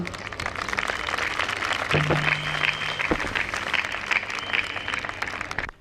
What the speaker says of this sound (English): Please, a huge round of applause for that.